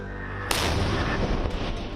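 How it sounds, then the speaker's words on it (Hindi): An ATAGS towed howitzer artillery gun fires, a sudden loud blast that rolls into a long, heavy rumbling boom, with a second sharp report echoing about a second later, heard close and with no talk. "स्वदेशी होइट्जर तोप का नाम एडवांस्ड टोर्ड आर्टिलरी गन सिस्टम यानी ATAGS है"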